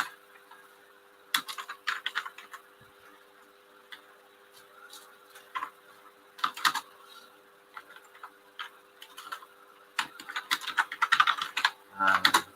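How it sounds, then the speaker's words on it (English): Someone types on a computer keyboard in irregular bursts of clicking keystrokes, close and moderately loud, with short pauses between runs. "Excuse my typing for a minute."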